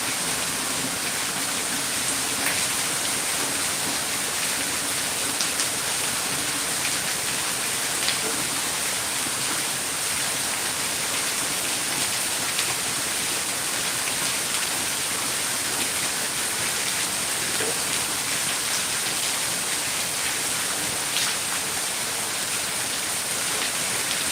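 Heavy rain in Pattaya pours down in a dense, unbroken hiss that stays loud and constant throughout, with no voices.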